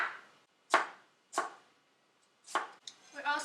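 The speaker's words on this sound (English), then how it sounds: "We're going to cut into thin slices. So half, and then just slice thinly." A knife slices an onion thinly on a cutting board for kimchi jjigae: four sharp, separate chops spaced out and close by, with a softer rustle of onion at the end.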